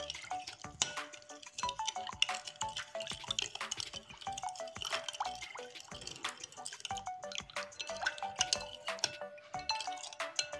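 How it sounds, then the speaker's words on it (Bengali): A spoon stirs a yeast mixture in a bowl, quick repeated clinks and liquid sloshing in an irregular rhythm, close and fairly quiet. "আমি এখন সুন্দর করে গুলিয়ে নেব"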